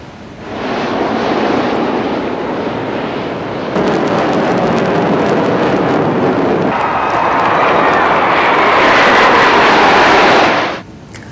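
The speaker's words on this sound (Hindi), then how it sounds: "इसके अलावा सारंग हेलीकॉप्टर डिस्प्ले टीम और सूर्य किरण एरोबॉटिक्स टीम भी हवा में अपने हुनर दिखा रही है।" Military aircraft at an air show, including the Sarang helicopter display team, Surya Kiran aerobatic jets, Prachand light combat helicopters and Dhruv advanced light helicopters, make a loud, sustained broadband roar that swells and shifts for about ten seconds with no talking.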